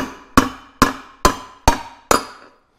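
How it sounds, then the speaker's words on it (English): Five sharp, evenly spaced hammer blows on a tool handle driving a bearing race out of a boat trailer hub, each a ringing metallic strike that decays quickly, close and loud with no talking. "insert the handle into the opposite end of the hub assembly and just hit on a couple of times with a hammer."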